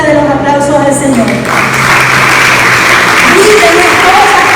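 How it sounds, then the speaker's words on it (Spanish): Church congregation applauding, a broad wash of clapping that swells and holds strongly while someone speaks over it. "para que ustedes den el más fuerte de los aplausos al Señor"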